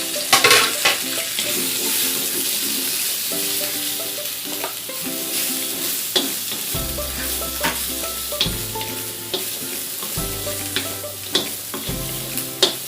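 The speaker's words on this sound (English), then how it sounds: "Now we will stir fry the vegetables." Vegetables stir-fry in a hot pan for a squid and mango sauce dish, with steady sizzling and frying, scraping stirs and occasional clinks of utensil against the pan, and a bass hum in places.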